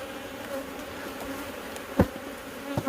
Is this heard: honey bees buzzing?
yes